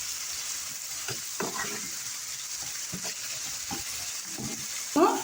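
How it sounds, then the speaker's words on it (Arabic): Onions fry in a pan with black pepper, salt and spices, giving a steady close sizzle broken by occasional stirring scrapes and clinks. "ونخلي البصل تاعي يتقلى مليح"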